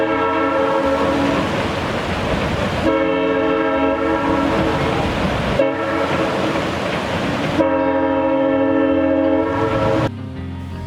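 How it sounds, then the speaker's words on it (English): A train pulls into town in Durango, Colorado, sounding its horn in several long, loud blasts with short gaps between them, with a low rumble of the cars underneath. "I hear the train pulling into town finally."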